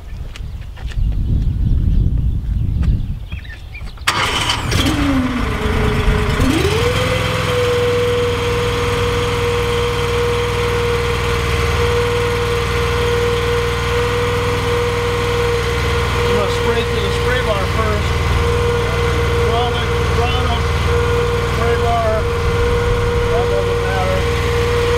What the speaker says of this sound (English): I'm gonna fire up the engine so that we can spray a little bit